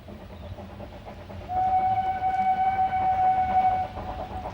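A narrow gauge train on the Bala Lake Railway in Wales rumbles along steadily near Llangower station while a whistle sounds one long sustained blast midway, over continuous rolling track noise.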